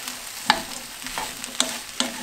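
Bell peppers frying in a pan for Tunisian chakchouka, a soft steady sizzle with a few sharp clinks of a utensil against the pan at intervals, close and fairly quiet.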